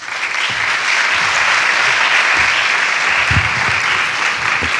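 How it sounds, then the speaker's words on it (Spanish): Loud, dense applause from a lecture-hall audience at a medical conference fills the whole stretch, steady and close, with scattered sharper claps standing out. "Muchas gracias, un fuerte aplauso."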